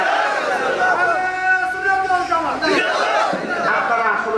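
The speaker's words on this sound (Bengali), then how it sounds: "জবান খুলে জোরে একটা তাকবীর দেন না আরে তাকবীর" A large crowd at an Islamic sermon gathering in Mohammadpur loudly chants takbir together, massed voices rising in sustained unison with a brief break and a second surge.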